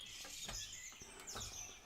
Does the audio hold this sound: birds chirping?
yes